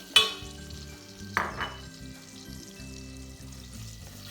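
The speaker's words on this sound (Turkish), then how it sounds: "Tereyağımızla birlikte şöyle bir kavuralım." Two cloves of grated garlic sauté in melted butter, a quiet low sizzle opened by a sharp utensil clink and followed by a second tap about a second later.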